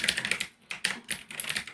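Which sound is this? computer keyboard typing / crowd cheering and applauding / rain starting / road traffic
computer keyboard typing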